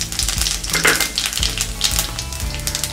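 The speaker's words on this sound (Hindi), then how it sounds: "कढ़ाई में रख दिया है, तेल हमारा गर्म हो गया है। इसमें हम जीरा डालेंगे" Cumin seeds sizzling and crackling in hot oil in a kadai, a bright continuous fizz with bursts of spitting and a few low knocks of a spoon against the pan.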